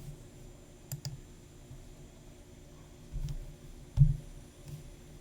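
Scattered mouse clicks on a computer, a few separate taps heard faint and close against quiet room noise with a low fan hum.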